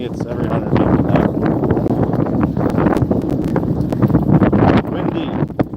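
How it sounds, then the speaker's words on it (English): Strong wind buffets the microphone on a salmon gillnetting fishing boat in Alaska, a loud, steady rushing roar with gusty swells throughout, and voices faintly heard beneath it. "Windy."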